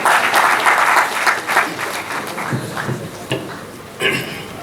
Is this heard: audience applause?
yes